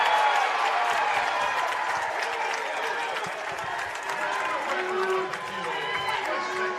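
A volleyball stadium crowd cheering and clapping at a West Texas A&M versus Texas Woman's women's match, a sustained roar of voices and applause with a commentator talking over it.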